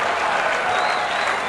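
A cricket crowd cheers and applauds after a West Indies win over Pakistan, a dense roar of clapping and shouting from a large stadium crowd, loud and continuous.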